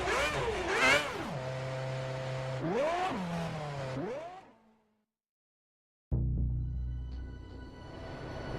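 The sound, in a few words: Formula 1 car engine starting and revving, racing video game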